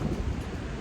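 Wind blows across the open deck of the Carnival Splendor cruise ship in the Alaskan fjords, a low, constant rumbling buffet against the microphone, steady and fairly faint, with no voices.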